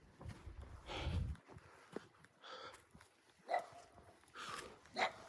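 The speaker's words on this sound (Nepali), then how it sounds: "कुकुर भुक्ते हुए।" Dogs bark in a cold winter landscape in East Sikkim, a few sharp, somewhat distant barks scattered among rustling, footsteps and faint background voices.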